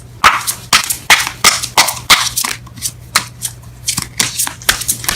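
Tarot cards being shuffled by hand in a close, rapid series of crisp riffling bursts, each a sharp papery flutter repeating in quick irregular rhythm.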